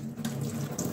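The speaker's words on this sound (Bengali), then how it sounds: "পরিষ্কার করে ধুয়ে নিচ্ছি পাতাগুলো।" Running tap water pours steadily into a sink as spiny pumpkin leaves are rinsed clean under the faucet, a continuous close splashing flow with no talk.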